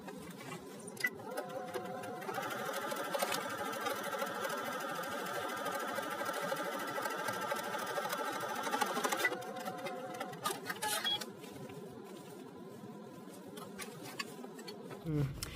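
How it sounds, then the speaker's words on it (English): A sewing machine understitches the V neckline of a sundress, running at a steady fast whir for several seconds. It stops briefly, then a couple of shorter bursts of stitching follow, and quiet handling noises close the passage. "I'm going to do the understitching for that V neckline first before I go ahead and stitch the underarm."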